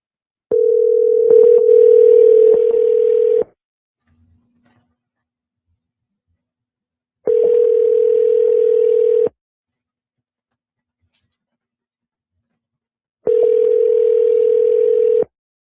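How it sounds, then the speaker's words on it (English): A telephone ringback tone plays while a call waits to be answered: three steady, loud rings of about two to three seconds each, separated by long silent gaps, with no talking. "Let's see if they answer the phone."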